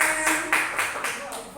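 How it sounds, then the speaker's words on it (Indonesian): A classroom group of teachers claps together during an Indonesian training session, a short burst of moderately loud, rhythmic applause with a few accented pulses, and voices faintly present underneath. "Oke, tepuk tangan."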